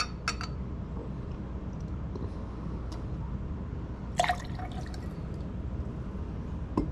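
Fresh-pressed pineapple juice pours for a cocktail as a faint, steady liquid stream with a few soft clinks and drips over a quiet room.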